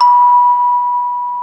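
A single chime rings for a breathing exercise, a clear, steady bell-like tone that sustains and slowly fades, heard alone with no voices.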